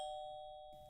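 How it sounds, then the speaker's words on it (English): A doorbell sounds a single sustained electronic chime, close and clear, fading steadily over under a second, with no voices. "The doorbell rang."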